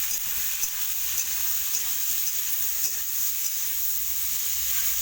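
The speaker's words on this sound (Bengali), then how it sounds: "কিছুটা সরষের তেল দিয়ে দেবো, দিয়ে সবজিগুলোকে আমি ভেজে নেবো" Ridge gourd and other vegetables fry with turmeric in mustard oil, giving a loud, close, continuous sizzle with faint stirring taps.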